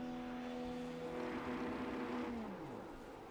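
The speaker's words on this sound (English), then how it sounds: "doing some fun burnouts on the track there" A college prototype series race car does burnouts on the Belgian Grand Prix track. Engine drone and tyre noise hold steady at a distance, then the pitch drops away toward the end.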